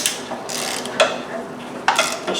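A ratchet clicks in short bursts while spark plugs are tightened, with a few sharp, close metallic ticks and clacks over a soft background and no talking.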